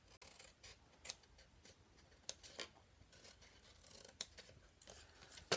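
Scissors cut up the side of a handmade K-Cup bag, producing a series of close, faint snips and rustling scrapes at an uneven pace in a quiet room.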